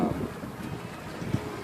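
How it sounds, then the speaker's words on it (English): Steady wind blowing across open water among sailboats, a broad low rumble of wind noise buffeting the microphone without a break for the short stretch. "And it's still pretty windy."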